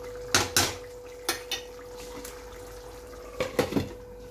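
A lid set on a cooking pot of jackfruit and prawn curry with fried fish and green chilli, heard as a few close metallic clinks and clatters in short bursts, alone.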